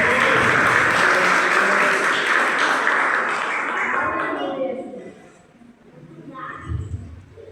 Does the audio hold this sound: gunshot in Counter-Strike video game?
no